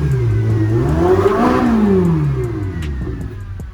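Ferrari 488 with its stock exhaust revving up and back down in one smooth, loud sweep close by, the engine note climbing and falling, followed by a settling idle.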